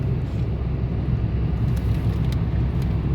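Steady low engine rumble and road noise heard from inside a moving car, continuous and even throughout with no talking.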